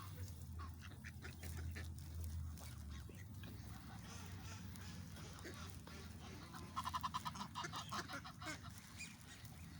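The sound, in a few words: new birds calling while being fed bread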